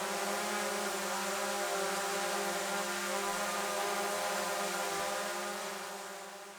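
DJI Mavic Air 2 drone fitted with Master Airscrew low-noise propellers, flying close with a steady, loud high-pitched motor whine and stable tonal hum that fades slightly at the end.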